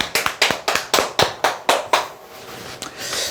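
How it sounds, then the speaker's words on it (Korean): Close, sharp hand claps in a rapid, even rhythm, about eight in a row, then a short pause and a couple of softer claps, from a small group in an indoor class. "네, 박수."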